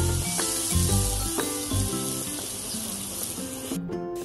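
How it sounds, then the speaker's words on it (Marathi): Besan (gram flour) roasts with spices and a little water in a pan for Shegaon-style kachori filling, giving a steady, close sizzling hiss under background music. "हे बेसन आता बराच वेळ जरा या मसाल्यांमध्ये परतून घेणार आहे."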